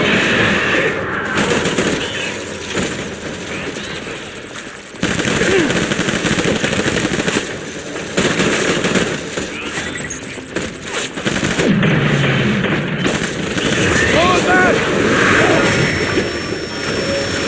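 Sustained gunfire in Death Stranding: Director's Cut, with loud rapid automatic bursts and scattered shots rattling continuously, broken by brief pauses and impacts, over a dense battle din.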